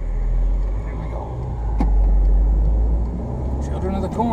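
A car passes on a quiet road near Clifton Gorge State Nature Preserve, a low rumble that swells and fades over a few seconds amid outdoor ambience.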